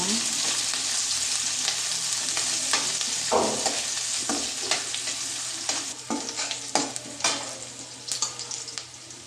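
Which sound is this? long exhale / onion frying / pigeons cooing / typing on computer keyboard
onion frying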